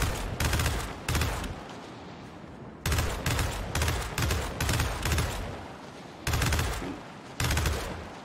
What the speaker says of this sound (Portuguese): puxa o gatilho do Hammer Burst para uma rajada mais longa que a anterior